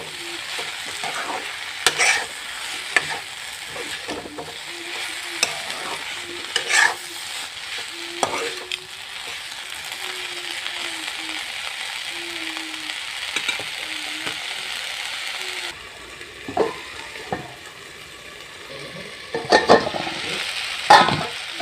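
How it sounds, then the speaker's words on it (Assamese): Mixed vegetables stirred in a pan make repeated scraping and clattering strokes with a spoon over a low, continuous sizzle, close and fairly loud, with irregular bursts of activity. "এতিয়া এইখিনি অকণমান লৰাই দিছোঁ।"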